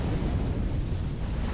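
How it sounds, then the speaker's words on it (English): A blue capital ship explodes in the space strategy game Sins of a Solar Empire II, giving a sustained, dense low rumble that stays steady and loud through the whole moment with no talk over it. "Look at that blue explosion there."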